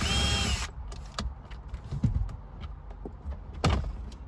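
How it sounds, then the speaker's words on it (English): A power driver fitted with a Torx bit whirs loudly and close for about half a second while turning a Torx screw during a phone mount installation in an Alfa Romeo Stelvio, followed by quieter clicks and handling noises. "Oh, forgot a Torx bit, Torx screw."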